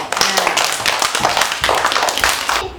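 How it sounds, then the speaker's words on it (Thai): A group of young children in a classroom claps hands together in a loud, brisk burst of overlapping claps, close by and sustained for a few seconds. "ปรบมือให้เพื่อนด้วย"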